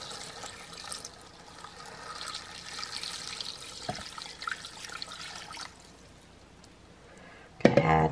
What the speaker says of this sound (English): And now I'm gonna just pour in the water.